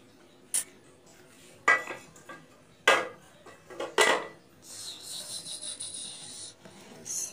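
Instant noodles cooked in a pot being stirred, several sharp metallic scrapes and clinks of a utensil against the pot spaced a second or so apart, close and fairly quiet, followed by a longer hiss.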